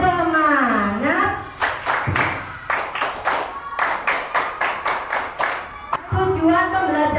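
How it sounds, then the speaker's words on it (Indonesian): A class of primary school pupils performs a rhythmic spirit clap, sharp unison hand claps in quick patterned bursts, with a voice leading and chanting at the start and end. "Tepuk semangat ya."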